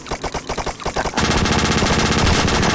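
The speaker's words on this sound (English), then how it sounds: "We're taking fire!" Machine gun fire from the video game Wardust. Separate rapid bursts come first, then a dense, sustained stream of automatic fire, loud and close.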